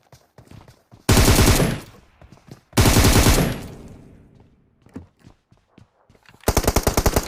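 Bursts of automatic gunfire from the PUBG Mobile game: three loud rapid-fire volleys, each roughly half a second to a second long, separated by quieter footsteps and small in-game noises.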